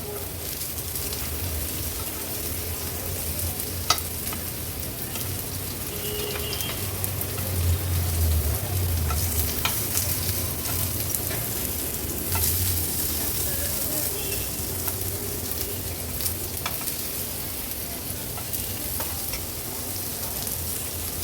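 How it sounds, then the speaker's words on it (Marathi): Flatbreads fry in ghee on a pan for a Marathi vegetarian thali. A loud, steady sizzle runs throughout, with a few sharp clicks as the breads are flipped. "तूप व्यवस्थित स्प्रेड करून घेते आणि आता हे मी पलटून घेते"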